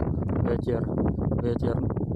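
Wind buffeting a microphone outdoors on a very windy day, a steady loud rumbling roar that fills the whole stretch without a break.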